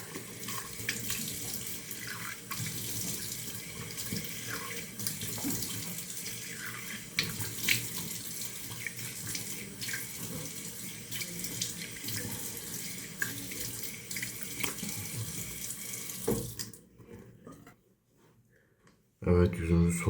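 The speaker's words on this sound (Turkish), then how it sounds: "yüzümüzü soğuk suyla yıkadık" Cold water runs steadily from a bathroom tap while someone splashes and washes their face at the sink, a continuous close splashing that stops near the end, followed by brief clatters.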